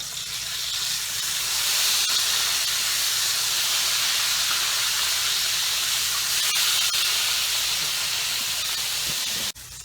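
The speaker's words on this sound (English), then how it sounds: "we're going to take this piece of liver and we're going to get them down in the pan" Liver frying in a pan with butter, oil and onions, a loud, continuous hissing sizzle that holds steady for about ten seconds before a sudden clatter near the end.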